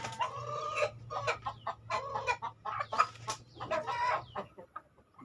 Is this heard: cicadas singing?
no